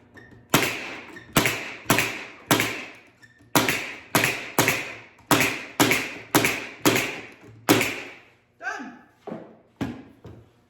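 A pneumatic nail gun driving nails into a simple wooden tray: a dozen sharp, loud, evenly spaced cracking shots, each with a short hiss and decaying ring, then a few quieter scraping clicks at the end.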